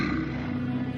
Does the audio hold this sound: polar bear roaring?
yes